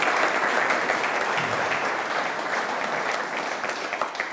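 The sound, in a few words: audience applause for the speakers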